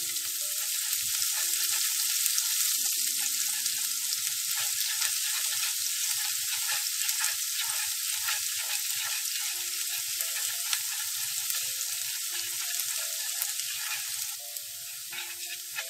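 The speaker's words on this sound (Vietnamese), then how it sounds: "Mình sẽ cho hết cái phần nửa cái tỏi mà còn lại nè, cái băm còn lại vào. Mình phi cho nó thơm lên các bạn." Minced garlic sizzles and crackles in hot cooking oil in a pan while a dish of soft eggs with fried garlic is prepared, a steady close frying hiss with small pops and occasional stirring.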